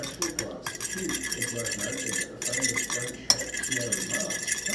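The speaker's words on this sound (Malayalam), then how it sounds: "ഒരു ഫോർക്ക് ഉപയോഗിച്ച് തന്നെ മിക്സ് ചെയ്യാൻ ശ്രദ്ധിക്കാം." Chicken for crispy KFC-style fried chicken being mixed with a fork in a bowl, giving irregular close clinks and scraping taps over a low background hum.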